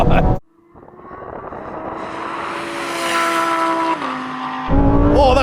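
A Ferrari 296 GTB sports car accelerates hard in a drag race, its engine note climbing steadily in pitch and loudness, briefly dipping at a gear change before rising again, heard loud and close.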